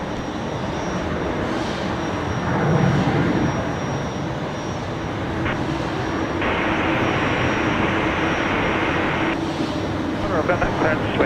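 A US Air Force C-17 jet departs Brisbane Airport, its engines a steady broad roar held at distance for the whole stretch, with voices on air traffic radio running underneath.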